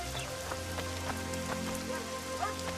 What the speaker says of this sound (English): apparently it started raining while I was gone.